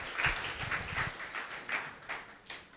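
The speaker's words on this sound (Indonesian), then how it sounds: "Yuk tepuk tangan sekali lagi buat Tuhan." A church congregation at a Sunday worship service in Tigaraksa applauds, a soft, steady patter of many hands clapping that stays fairly faint and even throughout.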